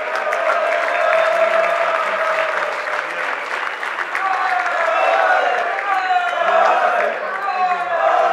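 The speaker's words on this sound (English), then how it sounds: "Big applause for Dar es Salaam A." A crowd claps and cheers for the badminton cup team winners at a closing ceremony, sustained applause with cheering while voices talk and call out over it throughout.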